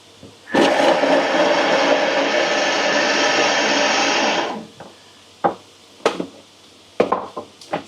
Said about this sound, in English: now I'm just going to grind up our herbs and our garlic together